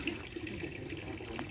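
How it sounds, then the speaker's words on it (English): Iron-rich thermal drinking water runs steadily from a fountain in the Roman spa town of Badenweiler in the Black Forest, Germany. It makes a continuous soft splashing hiss at moderate distance, with no talk. "And this is thermal drinking water, so you can actually drink this."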